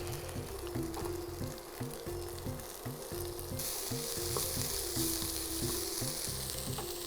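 Tomatoes frying with curry leaves in a pan, giving a steady, close sizzle with a rhythmic stirring scrape throughout, growing slightly brighter partway through.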